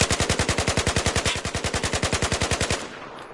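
Carbine rifle firing on the Battlefield 4 shooting range, a single sustained automatic burst of about twenty-five rapid, evenly spaced loud shots that stops abruptly and leaves a short fading echo.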